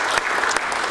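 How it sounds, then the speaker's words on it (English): Applause fills a council chamber in a short, dense burst of many hands clapping, loud and even, with no speech over it. "Let's give them a round of applause actually as well,"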